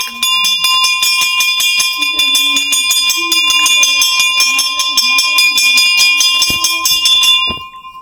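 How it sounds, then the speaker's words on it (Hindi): A brass bell at a Shiva temple is struck over and over in a fast, steady ringing, bright and close with a sustained metallic tone, until it stops and fades near the end while faint voices murmur underneath. "पहले घंटी बजाया जाता है।"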